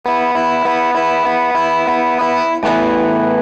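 A heavily effected electric guitar rings out repeated open-string notes in a steady pulse, then bursts into a louder, thicker distorted chord near the end.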